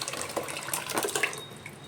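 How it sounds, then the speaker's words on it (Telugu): Water runs from a tap or is poured into a pot of dal and tamarind juice for mulakkada pappu charu, a steady close splashing and trickling with small bursts and no talk. "కావలసినంత వాటర్ యాడ్ చేసుకోవాలి"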